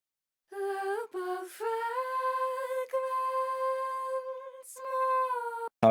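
A hard-panned doubled track from a music production plays as a string of sustained, bright melodic notes that glide between pitches, with short gaps between phrases. The notes are moderately loud and heard on their own.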